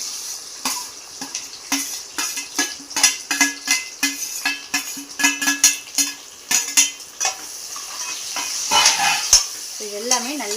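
Oil sizzles and crackles in a pan as onions fry, while a utensil stirs and scrapes in bursts, with a brief metallic clink near the end.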